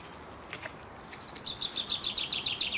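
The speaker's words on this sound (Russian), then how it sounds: "как птицы поют" Birds chirp at a country garden plot in quick, repeated high notes, starting sparse and then settling into a steady twittering series at moderate distance.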